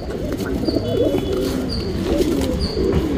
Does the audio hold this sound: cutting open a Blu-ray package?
no